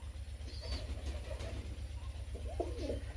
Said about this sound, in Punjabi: ਇਹ ਆ ਬਾਈ ਓਰੀਜਨਲ ਪੁੰਨੂ ਵਾਲੇ ਕਬੂਤਰ